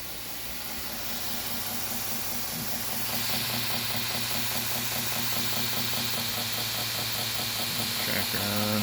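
A Torus CNC 2x72 belt grinder's motor runs on a variable frequency drive, a steady electric hum with a whining tone that rises in hiss and intensity partway through, then holds even and close.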